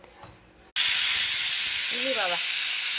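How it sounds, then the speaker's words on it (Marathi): A pressure cooker of dal on a home stove lets out a sudden loud, continuous steam whistle hiss that holds steady to the end; a voice speaks briefly just before it and again under the hiss. "आता कुकरला शिटी घेऊया काय."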